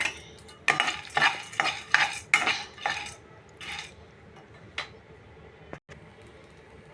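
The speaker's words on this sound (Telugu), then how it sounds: "ఇదిగోండి బాగా వేయించుకున్నాము గుమ్మడి గింజలు, సన్ఫ్లవర్ సీడు." A spoon stirs pumpkin and sunflower seeds roasting in a pan, with a series of scraping, rattling strokes that come quickly at first and then thin out into a few scattered scrapes.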